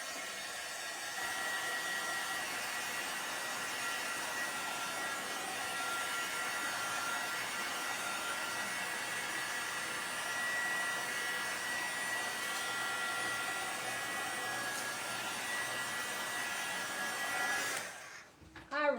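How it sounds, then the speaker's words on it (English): A hair dryer blows steadily for about seventeen seconds to dry paint on transfers for a geometric design, a loud continuous airy whoosh that cuts off near the end. "I am going to give it a little quick dry so that we can lay the other transfers on top."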